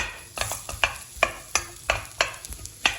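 Julienned onions sizzle in hot oil while a utensil scrapes and stirs the pan in a steady rhythm of close, repeated strokes.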